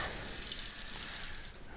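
Cold water runs steadily from a Moen kitchen faucet into a sink, a soft continuous hiss and splash heard up close that carries on for the whole short stretch, with no talking over it.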